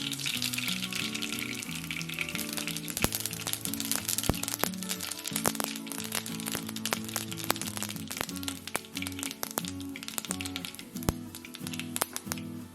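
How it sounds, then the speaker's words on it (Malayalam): Mustard seeds splutter in hot oil in a pan, giving sharp, irregular popping cracks over a steady sizzle, close and alone with a faint tonal hum beneath. "എണ്ണ ചൂടായിരിക്കുമ്പോൾ അതിലേക്ക് 1 ടീസ്പൂൺ കടുക് ചേർക്കുക."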